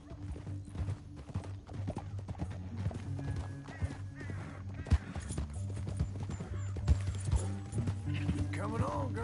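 Rhythmic clip-clop of several horses' hooves riding through a canyon in Red Dead Redemption 2, steady and close, with snorts and a whinny, under men's dialogue and background music.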